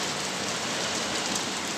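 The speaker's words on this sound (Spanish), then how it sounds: "Cómo está lloviendo." Heavy rain pouring down in a neighborhood during a flood, a dense steady hiss of water hitting surfaces, close and fairly loud, unbroken with no voices.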